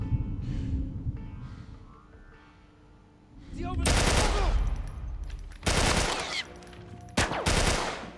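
Loud bursts of rapid video game gunfire from The Last of Us Part I break out in several blasts after a quieter stretch with faint voices, ringing sharply close up, with brief pauses between volleys.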